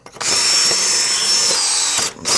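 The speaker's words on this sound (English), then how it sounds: "I'm going to use my drill and that drill bit to make my holes" A power drill with a masonry bit bores into a wall, giving a loud, steady high-pitched whine for about two seconds, then a short pause and a fresh burst as it starts again.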